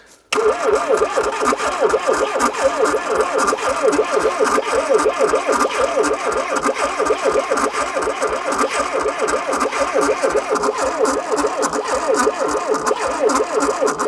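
A 1980s classic barn-find car cranks over on a weak battery, the starter churning slowly in a steady, rapid rhythm that continues without the engine catching, loud and close.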